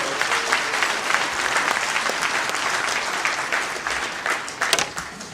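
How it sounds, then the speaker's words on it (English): Audience at a political gathering in Beverly Hills, California claps in a sustained, dense round of applause, with louder individual claps and a few sharp peaks near the end. "Please, let's give him a round of applause."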